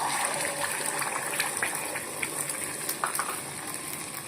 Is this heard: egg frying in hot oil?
yes